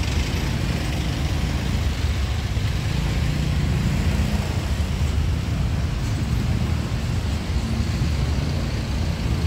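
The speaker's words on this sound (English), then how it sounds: "Got a bus right there." A bus passes along a busy street near Tha Phae Gate in Chiang Mai, its low engine rumble steady and close amid continuous traffic noise.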